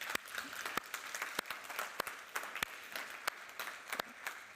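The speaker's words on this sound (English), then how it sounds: "we all need to give him a big round of applause for all the work he's been doing" Applause at a high-level political dissemination conference, sparse and fairly faint, with distinct individual claps standing out sharply from a soft background of clapping and no voices over it.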